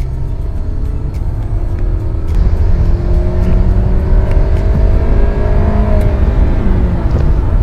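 A Hyundai Sonata Sport Tech in sport mode revs up loudly and close, its engine rising in a smooth climbing drone with a steady rumble beneath, no talking.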